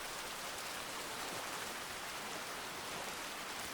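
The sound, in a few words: falling rain from a video game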